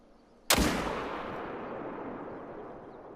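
A single loud rifle shot cracks out in theHunter: Call of the Wild during a whitetail deer hunt, the sharp blast followed by a long rolling echo that fades over several seconds, with no talking.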